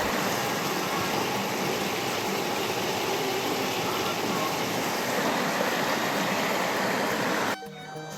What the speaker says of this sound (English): Boy, the water is rushing way harder.